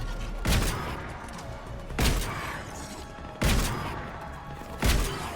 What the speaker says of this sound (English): You're shooting at them and you're shooting at each other now.